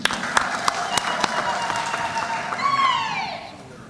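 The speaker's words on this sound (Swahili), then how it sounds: "Makofi kwa SG." Conference delegates at a national party gathering in Nairobi break into steady applause for the secretary general, sharp claps standing out over a dense crowd wash, with voices and a rising tone heard near the end.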